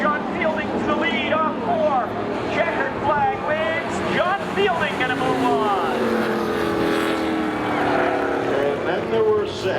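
Race cars in spectator drags at Seekonk Speedway on Independence Day: engines roar and rise and fall in pitch as they pass, running beneath a continuous commentator's voice.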